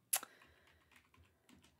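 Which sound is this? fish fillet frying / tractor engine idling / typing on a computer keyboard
typing on a computer keyboard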